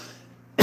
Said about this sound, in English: I got a cough right now a little bit